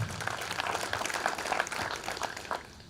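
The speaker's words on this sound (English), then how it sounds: "Please clap for Mr. Barasa and the team." Graduation crowd at a teachers training college in Bungoma clapping for Mr. Barasa and the team, a dense, fairly soft patter of many hands heard from a distance, steady throughout with no talk over it.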